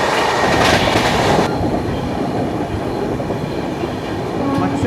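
The Matsyagandha Express between Lokmanya Tilak Terminus and Mangaluru Central runs past on the railway, a loud, continuous roar of rolling wagons with rhythmic clatter and a faint wheel squeal, heard up close throughout.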